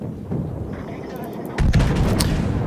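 Naval guns fire in the warship game War At Sea, with a rumbling salvo followed by a louder, sharper burst of booms near the end, and a player's voice talking underneath.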